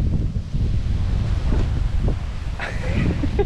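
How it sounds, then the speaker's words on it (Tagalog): Strong wind buffeting the microphone at a beach campsite in Lobo, Batangas, a loud constant roar with gusts and faint surf underneath, no clear talk. "Sobrang hangin niya."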